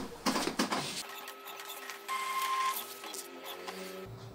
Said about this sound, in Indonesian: Untuk kemudian kita langsung tes saja printernya,